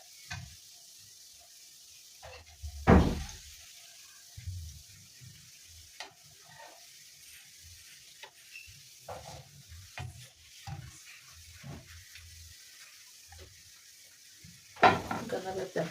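Milk donuts, a yeast-free dough, fry in hot oil with a soft, steady sizzle, broken by a few louder bumps and clatters near the start and end.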